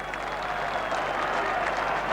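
Football crowd at a 1989 Millwall versus Arsenal First Division match at The Den, applauding a Millwall defender; a steady wash of distant clapping and crowd murmur from a packed stadium.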